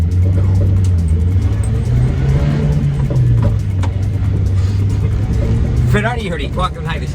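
A small Subaru Sambar kei truck drives along with a loud, steady engine drone that rises and falls slightly as it moves, while people talk inside the cab.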